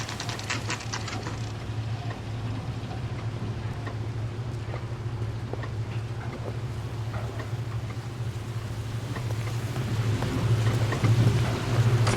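Steady rain in the video game L.A. Noire, a constant hissing patter with faint scattered drips over a low hum, swelling slightly louder toward the end, with no voices.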